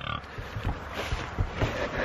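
Big pigs grunting and oinking on a farm in the morning, a run of short, low, close grunts repeating irregularly over about two seconds.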